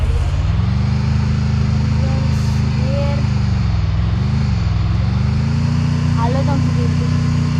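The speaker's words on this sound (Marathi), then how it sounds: "पाण्यातनं चालणारी गाडी आहे" An amphibious vehicle's engine in a video game drones steadily at a mid pitch, dipping slightly about halfway through, then holding constant to the end.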